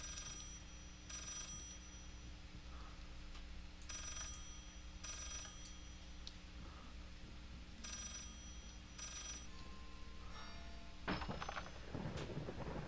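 Telephone ringing in the horror video game Layers of Fear: faint, repeated bursts of a bell-like ring at regular intervals over a low ambient drone, followed near the end by a sharper, louder burst of sound.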